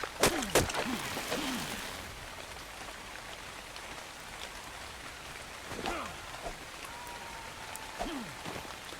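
Rain falls steadily in a survival video game, a soft continuous hiss with scattered brighter drops, medium loud and unbroken for the whole stretch, with no talk over it.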